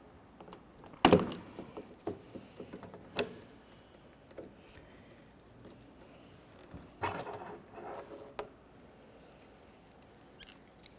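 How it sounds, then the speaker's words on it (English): Plastic clicks, scrapes and small knocks as the exterior door handle of a 2001-2005 Ford Explorer Sport Trac is wiggled loose, close up, in irregular bursts with a sharp snap near the start. "Now I'll grab that door handle. I'm going to give it a little wiggle."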